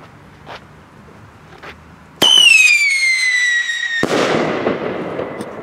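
After a couple of faint pops, a loud rising whistle from a Funke Scream Shots Small firework tube with a silver tail shoots up for about two seconds, then a sharp bang and crackling burst follows.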